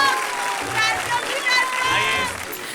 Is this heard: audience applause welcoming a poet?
yes